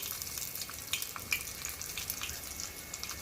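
Cumin and mustard seeds crackling in hot oil for a Telugu tempering, a faint continuous sizzle with scattered tiny pops and hiss, close by and without speech.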